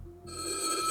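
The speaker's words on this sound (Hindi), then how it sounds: "12:30 बजे फ़ोन रिंग होता है।" A telephone rings in a tense, horror-like scene at 12:30 at night, a steady bright ringing tone that swells from a quiet start and holds loud and alone to the end.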